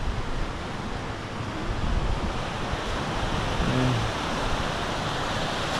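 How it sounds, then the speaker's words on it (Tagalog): Steady roar of ocean surf washing onto Patungan Beach among rock formations, continuous and fairly loud, with wind buffeting the microphone. "Tabi ng dagat."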